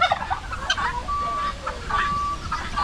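Turkeys gobbling as they scatter on a farm, several short rattling calls mixed with chicken clucks and thin whistly tones, fairly close over a low background hum.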